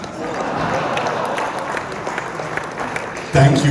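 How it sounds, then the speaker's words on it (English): A large audience applauds during a cinema masterclass with Boman Irani and Javed Akhtar, a steady wash of many hands clapping at fairly loud, even level, with a louder burst near the end. "Should we have a big round of applause for Javed Saab and everyone else who's here?"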